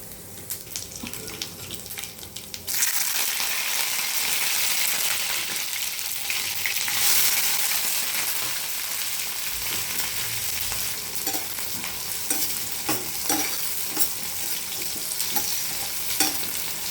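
Spices tempering in hot oil in a pan, a steady close sizzle that jumps louder a few seconds in and stays dense, with faint stirring clicks near the end.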